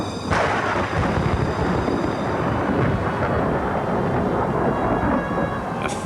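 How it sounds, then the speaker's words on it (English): A fierce storm roars in an animated cartoon, with a sustained loud rumble of thunder and heavy rain that fills the whole stretch without a break. "A fierce storm was brewing"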